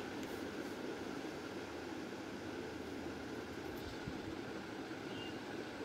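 A train in the video game Indian Bike Driving 3D rumbles past steadily with broadband rail noise and a constant hum, loud and continuous with no voices.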